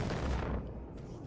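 Gunfire rings out across a battlefield in the video game Far Cry 4. It sounds like a muffled, fairly faint burst of booming shots that rumbles and then fades.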